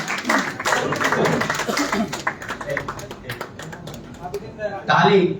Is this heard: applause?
yes